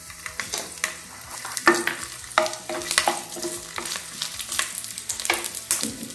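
Garlic, ginger and coriander seeds fry in about a tablespoon of oil, giving close, lively sizzling crackles punctuated by repeated scraping and stirring strokes in the pan, with no talking.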